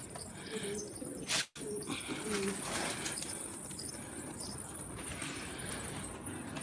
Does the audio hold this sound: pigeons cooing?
yes